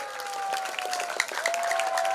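Moderate applause from a crowd of high school students at a Maulid Nabi religious gathering in a school in Indonesia, a short steady wash of clapping with a sustained tone humming through it.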